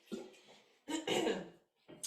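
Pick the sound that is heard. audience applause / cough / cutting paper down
cough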